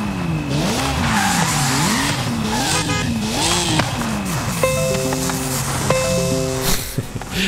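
Car driving up in Forza Horizon 5, loud engine revving in waving pitch swells with tire squeal, then stepped gear-like tones, continuous and close over game sound.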